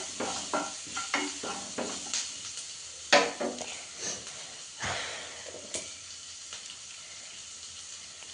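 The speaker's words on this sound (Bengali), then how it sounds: "ফ্রাই হচ্ছে, ভালো হচ্ছে" Food fries in a pan with a continuous hissing sizzle, punctuated by many sharp stirring and scraping clatters, one louder clank near the middle, all close up.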